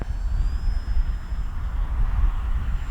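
A Durafly Excalibur V2 RC plane flies overhead, its motor a steady, moderately loud drone with a faint high whine, wind rumble running underneath throughout.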